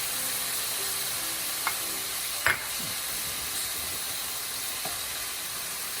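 Red curry paste sizzles steadily in a hot pan for salmon curry, a continuous broadband hiss with a few brief stirring clinks and scrapes, fairly close and without talk.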